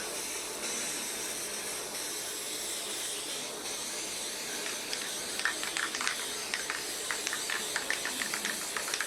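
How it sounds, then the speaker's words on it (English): A spray can held pointing downward hisses steadily as it coats the backing of a tufted rug, a continuous close airy spray with small sputtering bursts toward the end. "Cans don't like to spray at this pointing down level, but we get them to work."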